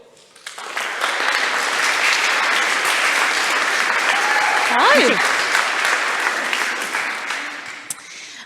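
Warm applause from a demo day audience welcoming a pitch presenter, rising quickly and holding steady and loud for several seconds, with a short greeting voiced over it before it fades out.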